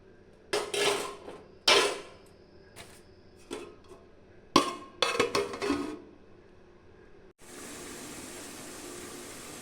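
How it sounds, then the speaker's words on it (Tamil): Metal lid set down with several clanks and rattles on a pot of chicken, green chilli and coconut curry, in a few separate close knocks, followed by a steady hiss of simmering. "இப்போ வந்து இதை ஒரு மூடி போட்டு மூடி வச்சிடலாம்."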